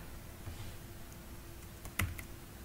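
Keys tapped on a computer keyboard while entering an fprintf command in MATLAB, faint and sparse with one sharper keystroke cluster near the end over steady background hiss.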